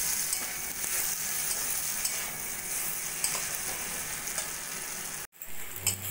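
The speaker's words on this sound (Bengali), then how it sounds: "দিয়েও আরো কিছুক্ষণ ভাজা ভাজা করে নেব" Pointed gourd pieces frying with Kashmiri chili powder and garam masala in a pan, giving a dense, continuous sizzle with soft stirring scrapes that briefly cuts out near the end.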